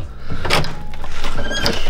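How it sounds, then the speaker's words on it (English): A door slides open with a rumbling scrape amid a noisy room, people laughing and talking around it. "Open the door"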